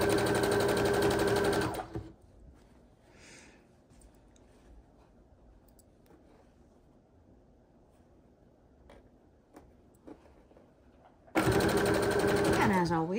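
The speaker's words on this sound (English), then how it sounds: "face to face, right sides together, we're sewing on the backs of the fabric" A sewing machine stitches quilt fabric blocks placed right sides together for a patriotic three-fabric quilt. Loud, rapid whirring bursts open and close the stretch, with a long quiet pause between them.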